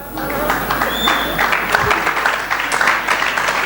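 An audience claps at a leadership conference, with scattered, uneven applause that is fairly loud and close and mixed with crowd noise.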